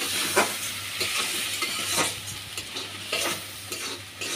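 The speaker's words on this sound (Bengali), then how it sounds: "এটা আমি এখন চিংড়ি মাছ মশলা সব ভালো করে কষিয়ে নিলাম, ভাজা ভাজা করে নিছি" Prawns and spices frying in a pan, a steady sizzle broken by repeated scraping stirs at an irregular rhythm, close by, with no voices.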